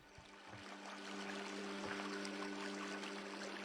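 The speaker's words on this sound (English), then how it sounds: "Half that water is running uphill." Flowing water in the Ether One Redux video game, a faint steady trickling stream with a low hum underneath, continuous and soft with no talk.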